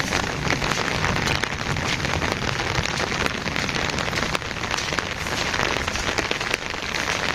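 Steady heavy rain pours down in a village during a fishing outing at a pond, a dense, loud, unbroken hiss of drops hitting surfaces close by, with no voices.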